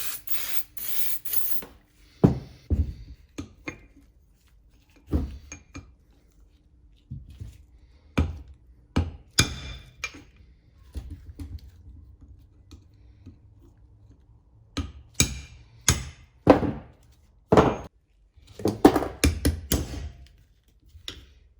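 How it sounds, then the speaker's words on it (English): Brembo brake calipers from a Mitsubishi Evo X have their pins tapped out with a socket and extension, heard as close metallic knocks in short bursts separated by quiet pauses, with faster clusters toward the end. "So I just use a little socket and an extension just to tap them out."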